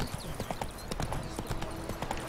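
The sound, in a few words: horse Roach trotting in video game The Witcher 3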